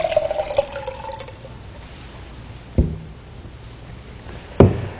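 Water carrying soaked tomatoes is poured into a cup, heard as a short liquid splash followed by two sharp, louder plops and splashes later on, close and with no talk.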